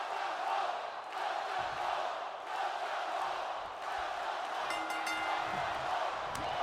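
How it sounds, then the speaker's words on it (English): A large video game wrestling crowd in WWE 2K25 roars and chants in a steady, distant wash of noise, like an arena full of shouting fans. "Trying to see what the crowd are shouting now"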